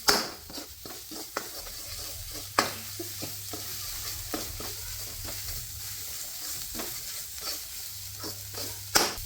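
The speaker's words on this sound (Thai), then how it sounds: "ผัดให้เครื่องหอมเลยนะครับ" Curry paste and herbs being stir-fried in a pan, a steady sizzle under repeated scraping and clacking of a spatula stirring, close and busy, with no talking.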